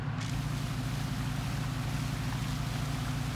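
A boat engine running steadily on the water in Dusky Sound, New Zealand, a continuous low throbbing hum heard close and fairly quiet, with no change in pace.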